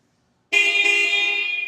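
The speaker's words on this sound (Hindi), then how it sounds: "फिर यार ये हॉर्न इतने बड़े, मैं बजा के देखूं आवाज़ कैसी आती है।" A loud, steady motorcycle horn blast starts abruptly and holds without a break, bright and close, with no talking over it.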